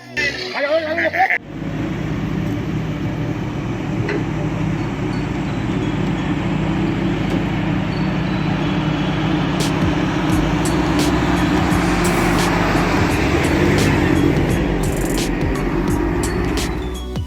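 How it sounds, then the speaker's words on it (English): Loaded log trucks moving through forest terrain, a heavy, continuous engine rumble and rolling drone that holds steady and loud after an abrupt start, with faint clicks and knocks scattered over it. "we see multiple log trucks in action, each one carrying its load through challenging terrain"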